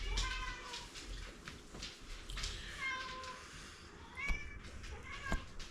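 A cat meows several times in drawn-out, wavering calls at close range, with faint background noise and no clear talk.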